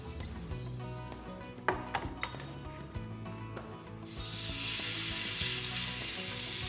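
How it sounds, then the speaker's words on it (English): Beef fillet meets a very hot pan and erupts into a loud, steady sizzle after a stretch of quieter kitchen handling and soft knocks, the searing hiss holding strong and continuous to the end. "You want to sear the flavors in, you want to brown the meat."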